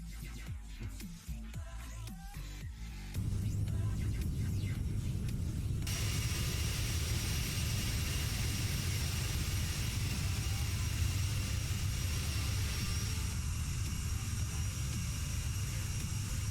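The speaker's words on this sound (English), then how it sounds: "Let me know if the jet noises are too loud" Jet engine noise in a flight simulator game, a loud steady roaring rumble that swells after a few seconds and holds continuously, close and dominant, with no voices over it.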